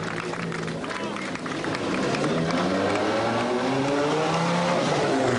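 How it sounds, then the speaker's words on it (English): Group B rally cars pull away from the start of the 1985 Acropolis Rally below the Acropolis rock, engines roaring loud and steady throughout with a voice speaking underneath. "Stig Blomqvist leads crews away from the start below the Great Acropolis rock"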